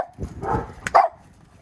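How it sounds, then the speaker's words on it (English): A dog, from an Alaskan Malamute and a Boston Terrier, gives a short bark or two close by, a brief burst with no other voices. "You'll probably see my dogs running."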